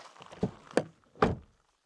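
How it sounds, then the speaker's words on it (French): Doors of a Nissan Ariya Nismo electric car shutting, three distinct solid thunks in quick succession, close by and crisp, the last one followed by silence. "le bruit de fermeture de la porte est plutôt correct"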